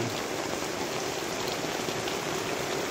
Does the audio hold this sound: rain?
yes